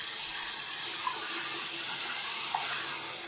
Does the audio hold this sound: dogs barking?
no